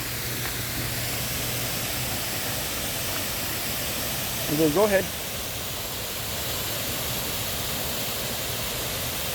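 Steady, broadband rush of water cascading over the waterfalls at Wilson Dam, a continuous close hiss that never lets up, with a brief voice speaking over it midway.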